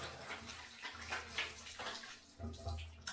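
Water pours steadily into a bathtub being used to wash clothes, a continuous splashing rush close by with gurgles, under quiet talk.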